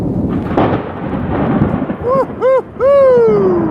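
Thunder rumbles loud and deep during a thunderstorm, then a person lets out excited whooping shouts over the fading roll.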